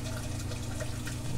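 Water runs steadily through an aquarium protein skimmer as its valve is opened to let more water into the cone, a continuous close rushing flow with no talk.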